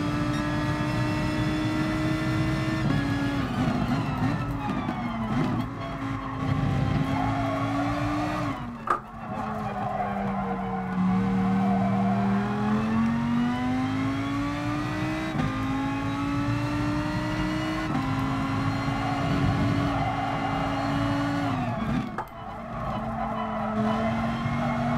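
A Lamborghini Huracan race car in GT Sport howls through gear changes, its loud engine rising and falling steadily with brief dips as it shifts and slows, tire noise beneath, no talk.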